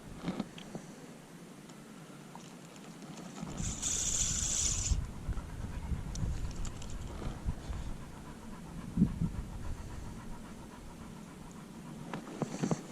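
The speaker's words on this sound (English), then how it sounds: "can you calm your panting down?" Steady, quick dog panting close by with soft outdoor ambience and light wind, a brief hissy burst partway through.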